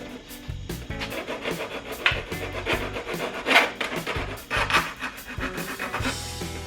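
Metal being hand-filed while building custom bead-rolled floor panels, a steady run of rough rasping strokes that swell and fade in an uneven rhythm, close up with no talking.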